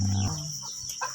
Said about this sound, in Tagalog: Ang manok tanan nagbirada katuka.